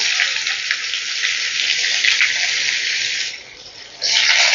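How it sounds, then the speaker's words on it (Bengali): Beans and chopped vegetables hit a hot pan for fried rice, a loud, steady sizzle that dips briefly near the end before surging back, with no one talking. "এবার একে একে আমি সবজিগুলো এখানে অ্যাড করছি প্রথমে দিয়ে দিচ্ছি বিনসটা"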